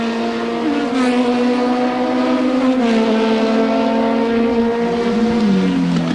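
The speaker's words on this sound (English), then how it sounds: "Coming up to put a lap on car number 5, Derek Pingle in the Cheetah." Race cars lapping Symmons Plains circuit in 1986, engines roaring loud and close as one car climbs and shifts through the gears while others drone behind, with a commentator talking over it.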